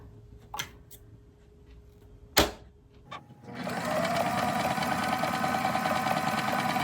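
A sewing machine stitches homemade toe separators, starting up after a few faint clicks and a sharp knock, then running in a steady, close, continuous mechanical whir for the last few seconds.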